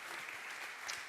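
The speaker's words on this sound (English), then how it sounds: "applause that will travel all the way to Brussels" Conference audience applause, a steady wash of clapping hands at a moderate distance, brief and unbroken.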